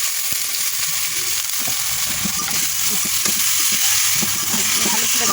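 Potatoes go into hot oil in a pan for a leafy vegetable fry, and a loud, continuous sizzle of frying fills the whole stretch with scattered stirring clatter.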